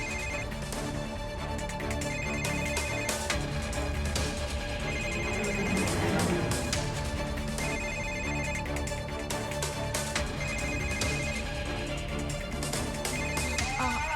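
Mobile phone ringtone playing steadily and fairly loud from under a sofa, a continuous melodic ring with no talking over it.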